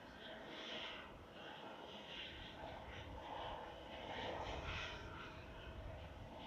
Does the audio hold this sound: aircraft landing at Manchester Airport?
yes